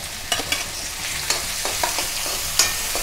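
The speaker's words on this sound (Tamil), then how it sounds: "நல்லா வதங்கட்டும். வெங்காயம் வந்து வதங்கிடுது." Onions sizzle steadily in a hot pan while a utensil scrapes and stirs with occasional sharp clicks, close up.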